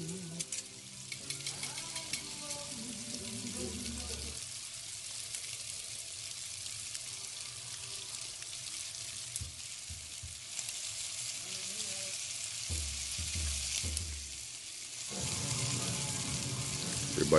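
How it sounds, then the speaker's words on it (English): Steady sizzling of chicken tenders frying in a pan, a constant crackling hiss with occasional scraping and stirring sounds, close and moderately loud. "so I'm just going to let it sizzle for a 20, 30 seconds there"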